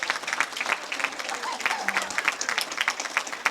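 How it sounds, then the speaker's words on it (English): A ceremony crowd applauds, a steady patter of many hands clapping at moderate loudness, with a brief voice or tone underneath partway through. "If we could just have another round of applause for our 2020 Colleen in Court."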